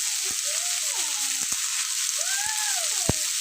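Chopped cauliflower and potato sizzle steadily in a hot pan, a constant close frying hiss broken by occasional sharp pops and a few faint whistling tones, with no talking.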